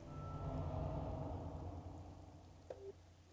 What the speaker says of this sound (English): It was a stormy fall night. The rain was coming down in buckets.